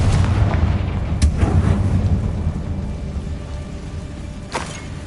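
A Confringo fire spell blasts in Hogwarts Legacy, giving a loud, rumbling explosive boom with a sustained low roar and sharp crackling transients near the start and end.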